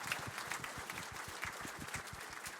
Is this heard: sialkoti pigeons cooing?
no